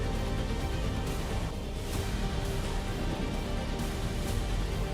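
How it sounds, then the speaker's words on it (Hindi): Heavy monsoon rain in Ramnagar, Uttarakhand, a steady dense roar of downpour across the whole stretch with no pauses, loud and continuous with no voices. "उत्तराखंड के रामनगर में भारी बारिश से उफान पर बरसाती नदी नाले।"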